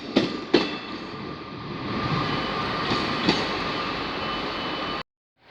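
Trains at Liverpool Lime Street station make a loud, steady rolling rumble, with a couple of sharp clanks at the start and another partway through, before the sound cuts off abruptly.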